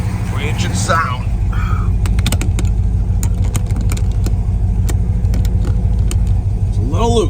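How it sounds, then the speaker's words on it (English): A 1970 Chevrolet Chevelle engine idles loud and steady throughout, with a low rumble, brief mechanical clicks, and a rise in revs near the end. A voice is heard briefly early on. "Engine sound."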